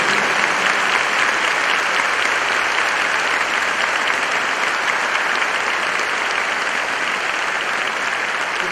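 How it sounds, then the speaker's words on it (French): A congregation at a Bible study gathering breaks into long, dense applause, a steady wash of many hands clapping without pause throughout. "Un grand applaudissement pour elle."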